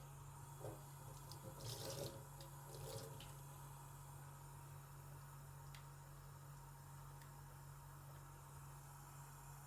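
A sink tap runs a steady, gentle stream of hot water at low volume, with brief clattering splashes early on and a constant hum beneath.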